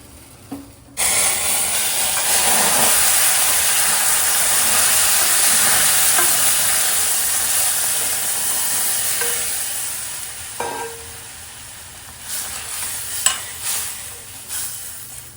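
Hot water poured into pan-roasted semolina for mango sheera hisses and sizzles loudly in a steady, sustained burst, followed by stirring scrapes and clinks as the steam dies down.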